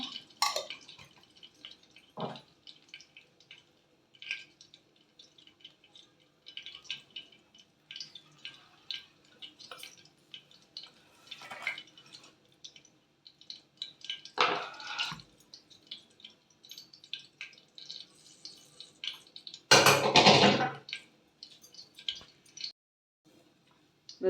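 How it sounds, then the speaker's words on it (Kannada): Mustard seeds spluttering and popping in hot oil, heard as scattered sharp crackles and pops at varying loudness, with a dense loud burst near the end; no talking. "ಎಣ್ಣೆ ಕಾದಿದೆ ಇವಾಗ ಇದಕ್ಕೆ ಸ್ವಲ್ಪ ಸಾಸಿವೆ ಹಾಕೋಣ"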